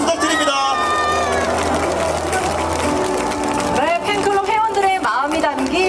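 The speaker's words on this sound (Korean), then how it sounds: "여러분 큰 박수!" Audience applause fills a Korean city ceremony appointing a Yangsan publicity ambassador during the Yangsan Sapryang Festival, a steady wash of clapping mixed with music and crowd voices throughout.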